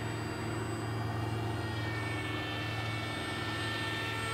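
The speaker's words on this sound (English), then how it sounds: "It's just a nice, slow flying plane." An RC model J-20 jet plane flies slowly overhead, giving a steady, loud engine whine with a constant high tone that holds evenly throughout, with no voices.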